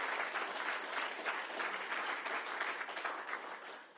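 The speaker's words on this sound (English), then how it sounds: "How about a round of applause for everybody associated with the Washington State Park System?" Dense steady applause from a crowd at an outdoor park observatory celebration, many hands clapping together in a continuous wash that stays even throughout, heard at moderate distance and fairly soft, without talk.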